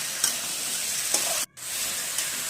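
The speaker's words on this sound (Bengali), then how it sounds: "পরে গোটা জিরে ফোড়ন দিয়ে সব মশলা দিয়ে এখন আলুগুলো কষিয়ে নেব।" Potatoes sauté in a pan with whole cumin and spices, making a continuous, close sizzle with light stirring sounds. There is a brief break near the middle, and no voices.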